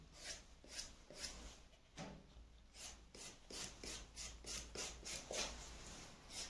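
Sandpaper scrapes along the edge of a leather knife sheath in a series of short, rhythmic rasping strokes, close and fairly quiet, with no talking.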